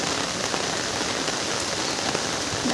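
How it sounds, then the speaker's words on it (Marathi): Heavy rain pours down steadily and loudly close by, a dense unbroken hiss with drops striking the surface, including water landing on the recording phone. "लय जास्त जोरात पाऊस चालले आणि पाणी पडतंय मोबाईलवर"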